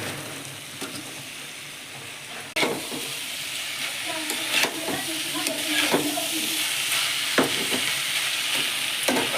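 Masala frying for a paneer and pea curry: a continuous sizzle and hiss with intermittent scraping stirs and clinks, steady and fairly close, with no talking.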